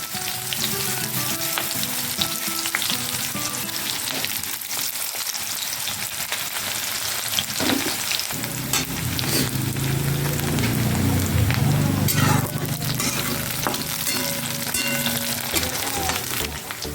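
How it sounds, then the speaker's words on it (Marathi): Chopped onion hits hot oil already holding spluttered cumin and mustard seeds, and a loud, steady frying sizzle rises and carries on with scattered pops and crackles. "आपण एक कांदा घालून घेऊयात चिरलेला"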